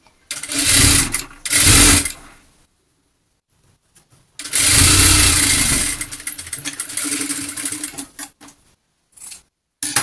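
Sewing machine stitching along the folded edge of a fabric scrap, in two short bursts followed by a longer run with a brief pause, close and fairly loud.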